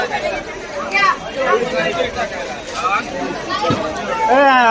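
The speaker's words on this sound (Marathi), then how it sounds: "भरपूर गर्दी इथं" Busy murmur of many voices at a crowded village fair (jatra), loud and close, a continuous babble that swells slightly toward the end.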